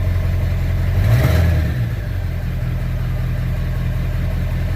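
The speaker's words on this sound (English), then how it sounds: "No more rough idling." A 1997 Ford F250 with a 7.3 diesel engine idles after a new high-pressure oil pump install, a brief rev swelling then settling into a steady, close, even rumble.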